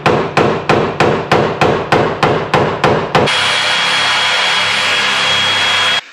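A screwdriver is hammered against a break-off bolt on a Porsche 964, giving about a dozen loud, evenly spaced metallic strikes, each ringing briefly. A steady, loud whirring tool noise follows and runs for several seconds.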